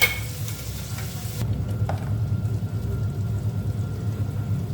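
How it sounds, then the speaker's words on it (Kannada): Onions and a ground paste of garam masala, garlic and ginger fry in hot oil with a steady close sizzle, with a clatter of stirring at the start, then a softer even crackle and no voices. "ಎಣ್ಣೆ ಬಿಸಿಯಾಗಿದೆ, ಈರುಳ್ಳಿ ಹಾಕಿ ಫ್ರೈ ಮಾಡ್ಕೊಳ್ತೀನಿ"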